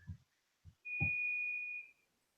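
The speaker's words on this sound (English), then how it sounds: "I hear the cake beeping." A single sustained electronic beep from an oven timer, about a second long, follows a few short low thumps in an otherwise quiet room.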